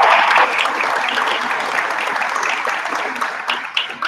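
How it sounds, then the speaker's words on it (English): Audience applause at a community group meeting, steady clapping from a crowd that fills the room at a constant level, then slowly thins toward the end. "So let's give her a big applause"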